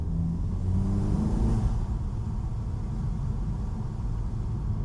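A car fitted with a Racingline R600 intake gives a throttle blip, a brief rising rev near the start, then settles into a low steady engine rumble, close and fairly loud.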